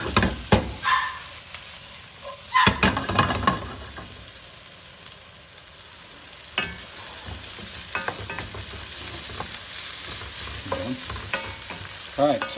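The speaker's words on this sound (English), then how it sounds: "Then I'm going to throw my garlic in." Garlic tossed into hot oil in a pan for seafood pasta primavera: sharp clattering bursts as it goes in, then a steady close sizzle with occasional light scrapes and taps.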